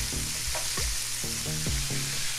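Pollock fillets frying in hot oil in a pan, a steady sizzle with scattered pops and crackles throughout, close by and fairly loud.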